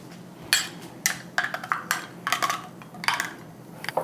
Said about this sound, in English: Plop it in there, just stir it up